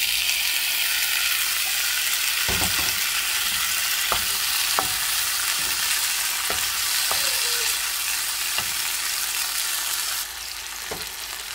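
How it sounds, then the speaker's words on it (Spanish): Onion and tomato frying in a pan for beetroot tortilla quesadillas, a loud steady sizzle close up with occasional sharp spoon scrapes and taps. "Nada más que se fríe un poquito"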